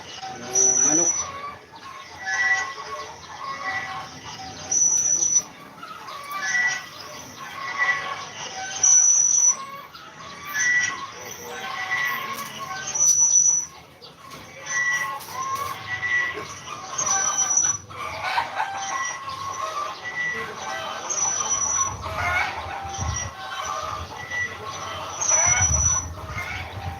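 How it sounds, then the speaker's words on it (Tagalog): Chickens cluck repeatedly and flap their wings nearby in an irregular stream of calls, with a rooster-like crow here and there, over a faint background. "Manok."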